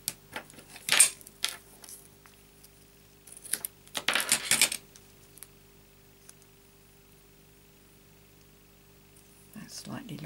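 Scissors snip through papercraft card stock for a Stampin' Up! garland, giving a few sharp, close cuts and rustles spread across a quiet stretch, with faint handling noise between.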